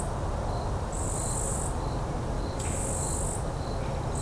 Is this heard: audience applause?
no